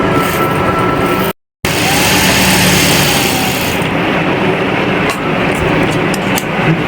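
An electric sewing machine stitches a blouse border, giving a steady, loud, close mechanical whir with rapid ticking. The run is briefly cut by a gap and grows slightly less bright toward the end, with no talking.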